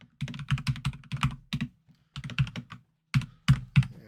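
Steady computer keyboard typing in bursts of rapid, close, crisp keystrokes separated by short pauses, heard alone while entering table names in an Excel spreadsheet.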